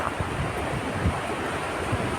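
Sea waves washing the shore near Khanderi Fort on the coast, a continuous loud rush of surf mixed with wind buffeting the microphone.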